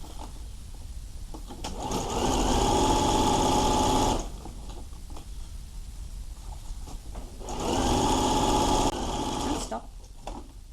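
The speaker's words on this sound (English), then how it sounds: "We sew down to this point here on that side." A sewing machine stitches the side pocket seam of a teen dress. It runs in two steady, close whirring bursts of a few seconds each, with quieter handling sounds between them.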